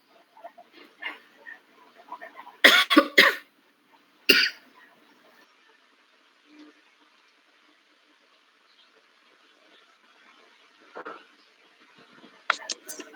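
A person coughs and clears their throat in a brief burst of several harsh coughs, then a single cough a moment later, with sporadic talk and quiet room noise around them.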